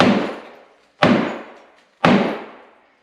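A sledgehammer strikes a cast iron bathtub during a bathroom remodel, landing three heavy, booming blows about a second apart, each ringing out and fading before the next.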